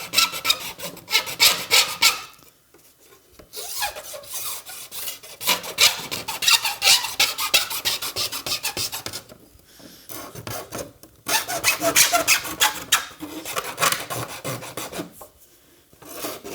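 Rough cut edges of a polycarbonate sheet are worked with a hand file in fast, rhythmic rasping strokes, coming in three long loud bursts separated by brief pauses.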